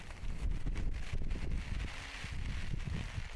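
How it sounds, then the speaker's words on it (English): Wind blusters outdoors in a low, steady rumble of gusts buffeting the microphone, with faint rustling on top, moderately quiet and continuous. "Damn, that wind is blowing."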